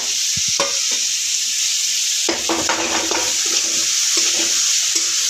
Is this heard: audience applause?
no